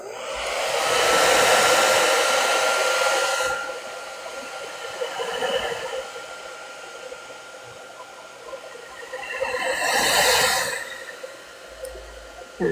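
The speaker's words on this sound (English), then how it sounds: "I'm gonna go ahead and use my hairdryer, speed this along" Hair dryer blowing steadily over wet watercolor paint, a loud continuous rush that cuts off, then returns in a shorter burst later, with quiet room sound between.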